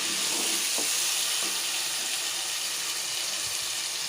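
Chopped tomatoes hiss and sizzle loudly in hot oil as they go into a fish curry, a steady, close frying crackle with a few faint knocks.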